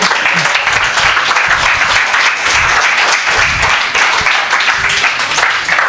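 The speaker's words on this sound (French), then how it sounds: "Je crois qu'il faut encore applaudir très fort." Loud, sustained applause from a large audience, steady clapping filling the whole stretch without pause.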